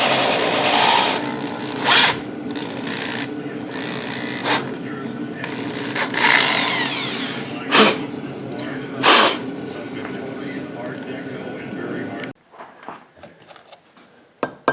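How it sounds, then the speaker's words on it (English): Low, slow drilling in a metal shop as a broken stud is bored out square with the next size bit, a steady grinding whir broken by brief sharp bursts, then fading to quieter scraping near the end. "Alright, we graduated to the next size drill now. Low and slow, see it's making a pretty nice chip."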